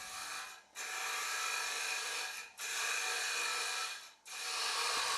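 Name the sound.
titanium nitride coated mushroom cutter hollowing a wooden bowl on a lathe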